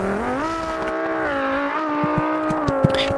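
A Formula 3 race car in BeamNG howls at high revs as a steady, close engine drone, its pitch shifting a little with light gear changes and a few faint knocks.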